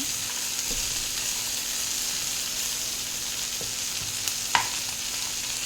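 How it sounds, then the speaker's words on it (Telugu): Peanuts frying in a pan for dodakaya (ridge gourd) fry give a steady, even sizzle that runs throughout, with a few soft stirring clicks and no voices. "పల్లీలు కూడా వేగనివ్వాలి కాస్త."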